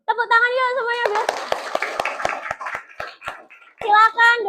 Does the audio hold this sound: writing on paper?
no